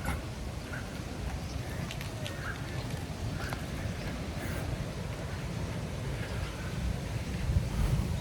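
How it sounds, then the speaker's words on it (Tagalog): Steady outdoor breeze rumbling across the microphone in Panaad Park, with a constant low roar and faint distant sounds, no talking. "Maganda yung simoy ng hangin."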